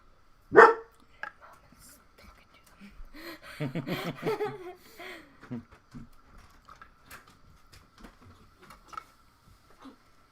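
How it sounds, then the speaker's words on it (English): An indoor dog barks at cats outside, one sharp loud bark followed by scattered softer yips and grumbles, with people talking and laughing in the room over it. "The dog is not happy at the moment. He sees a couple cats outside."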